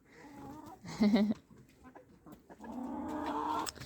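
Faint chickens cluck a few short times nearby at a country dacha, their soft calls coming in brief bursts against a quiet background.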